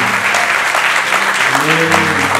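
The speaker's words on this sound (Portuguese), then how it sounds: "Uma salva de palmas ao Senhor." A church congregation claps during a family worship service, dense loud applause filling the room while a voice or sustained tone rises faintly beneath it near the end.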